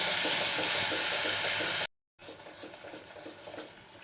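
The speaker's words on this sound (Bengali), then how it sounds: "সর্ষে পোস্ত কষিয়ে নিয়েছি" Mustard and poppy seed paste with turmeric and salt sautés in a pan over a raised gas flame, hissing and sizzling loudly with stirring scrapes, then cutting out briefly before a softer sizzle resumes.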